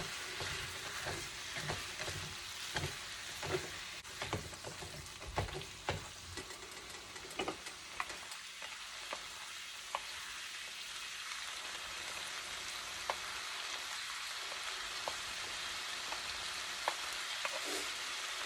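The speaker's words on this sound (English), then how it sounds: "so you guys don't have to listen to the sizzle all the time" Kielbasa sizzles and crackles in a hot pan, with soft pops and a few sharp clinks of a utensil stirring early on, quiet and continuous.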